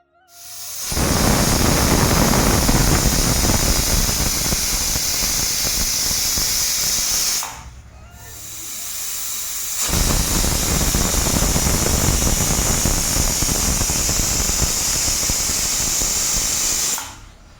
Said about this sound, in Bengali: মটরগুলো আমি সিদ্ধ বসিয়ে দিলাম